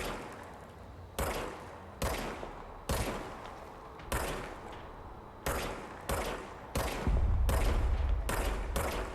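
Gunfire in the video game Control, a run of loud, sharp shots in irregular bursts, each with a brief decaying tail, ending in a denser rumbling volley.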